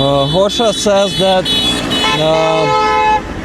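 Car horns honk repeatedly in a loud street rally in support of captives, with overlapping toots and passing traffic while someone talks over the din.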